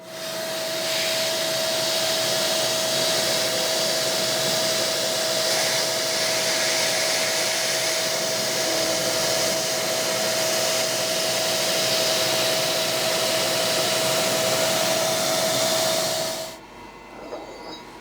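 A milling machine drives a solid carbide cutter at two inches of engagement, giving a loud, steady machining roar with a sustained tone for about sixteen seconds before it cuts off near the end.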